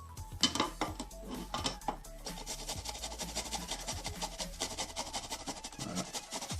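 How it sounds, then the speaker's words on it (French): Fresh ginger root grated on a simple handheld grater, a steady rasping scrape in rapid repeated strokes, close and continuous, with light clinks of the metal grater. "râper la racine de gingembre"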